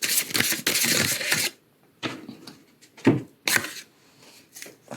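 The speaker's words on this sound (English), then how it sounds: "I pre-shuffled and I'm shuffling live as well." Tarot cards being shuffled by hand in repeated crisp riffling bursts, loud and close, separated by short quiet gaps with lighter rustling and taps.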